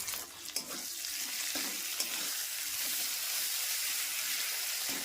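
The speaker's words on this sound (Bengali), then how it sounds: "এবারে মশলাটা খুব সুন্দরভাবে লাল লাল করে কষে নেব" Spice masala of onion, tomato, ginger-garlic paste, turmeric and chilli powder sizzles and fries in a pan with a splash of water, a dense continuous hiss with a few stirring knocks near the start, no talking.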